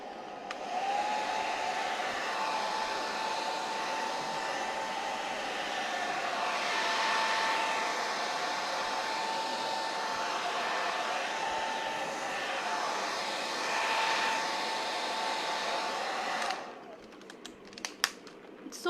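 Hair dryer blowing on a bottle during a bottle upcycling art craft, a steady, fairly loud whirring hiss with a faint tone that runs for about sixteen seconds, then shuts off, leaving a few small clicks.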